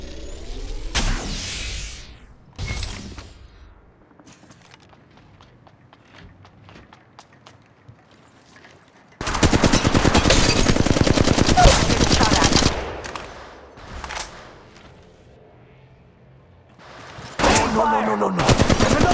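Loud automatic gunfire from an enemy squad in the video game Apex Legends Mobile comes in long, dense bursts separated by quieter stretches with scattered shots and footsteps.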